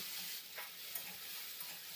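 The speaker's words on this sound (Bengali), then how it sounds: "আদা রসুনটা আমি হালকা করে ভেজে নেব।" Ginger-garlic paste frying gently in oil with panch phoron, for a prawn and elephant-foot yam curry, gives a soft, faint, steady sizzle with a couple of light ticks and no voices.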